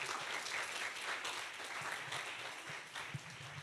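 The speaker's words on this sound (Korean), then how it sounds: "김효진 자매님 앞으로 나오실 때 큰 박수로 환영해 주세요" Applause from a church youth group audience welcoming a new member, a steady wash of clapping from many hands, fairly quiet and continuous from start to finish.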